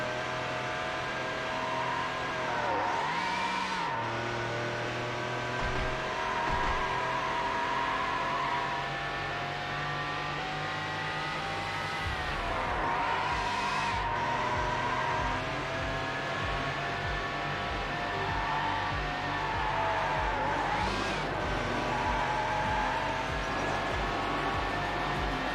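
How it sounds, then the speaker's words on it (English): A mid-engined V10 car races in Need For Speed Hot Pursuit 2, its engine holding a high, steady whine, with occasional swooping rev changes and shifts over a continuous game drone. "Mid-engined, V10 engine, very high revs."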